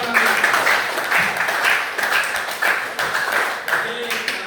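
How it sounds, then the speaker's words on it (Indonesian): A classroom of children gives a round of applause, with steady, rhythmic group clapping that continues close and loud for the whole stretch. "Kita berikan tepuk tangan."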